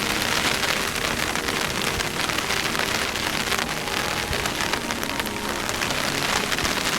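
Heavy rain pours onto an umbrella beside a riverbank during June chub fishing, a dense, steady drumming hiss from close overhead, unbroken and loud throughout with no voices.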